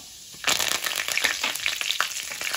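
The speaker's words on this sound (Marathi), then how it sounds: "आता बघा, तेल तापलेलं आहे. सगळ्यात पहिल्यांदा मी जिरं घालते, हिंग, कढीपत्ता" Cumin seeds, asafoetida and curry leaves drop into hot oil for a guava bhaji tempering, bursting into a loud, close, crackling sizzle that starts abruptly and keeps spitting and popping throughout.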